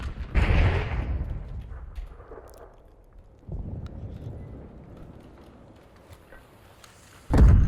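A grenade explosion in a competitive first-person shooter match, heard as a loud booming burst with a decaying rumble, followed by a second heavy blast near the end.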